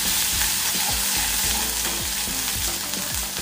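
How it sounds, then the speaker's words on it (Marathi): Spice paste with a little turmeric frying and being stirred in hot oil in a wok, a steady close sizzle with repeated scraping strokes of the stirring, no voices. "कढईमध्ये अर्धा चमचा तेल गरम करून घ्यायचं, मसाल्याचं वाटण घालायचं, तेलावर थोडं परतवून घ्यायचं"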